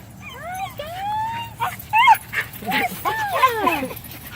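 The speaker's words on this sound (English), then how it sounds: "Ghost dogs are coming to visit." Several dogs yip, whimper and bark up close in a loud, overlapping burst of rising whines and short sharp barks, with no talk over them.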